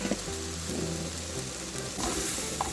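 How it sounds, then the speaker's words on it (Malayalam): Coriander powder sautés in a pan for butter egg curry, giving a dense continuous sizzle with light stirring and a low background hum, no talking. "ഇതുപോലെ മല്ലിപ്പൊടി കൂടി ജസ്റ്റ് ചേർത്തൊന്ന് വഴറ്റിയെടുക്കാം."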